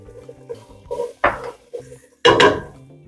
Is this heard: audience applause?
no